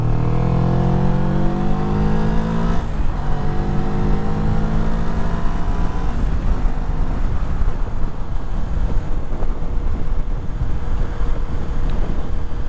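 A 2024 Moto Morini Calibro motorcycle accelerates on an expressway, its engine note rising through the gears under steady, heavy wind rush, continuous and close to the rider.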